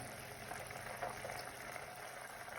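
Butter simmering in a pan while making ghee, water boiling off with a soft, continuous bubbling crackle, faint and steady without pauses.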